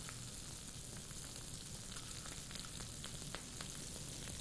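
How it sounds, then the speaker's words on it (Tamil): Onions sautéing with cashews in a hot mix of ghee and oil, a steady close sizzle and crackle with small pops scattered throughout, no voices. "வெங்காயம் வதங்கிட்டு இருக்கு"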